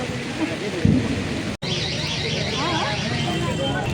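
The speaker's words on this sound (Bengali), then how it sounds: "এখনো তো বৃষ্টি হচ্ছে।" Rain pouring down at an outdoor fair, continuous hiss throughout with brief talk early on and a short dropout midway; voices and faint chirpy sounds mix in.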